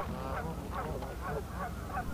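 Several geese honking at a meltwater pond in snowy, freezing weather, a cluster of overlapping nasal calls at a moderate distance over steady outdoor background noise, no talking.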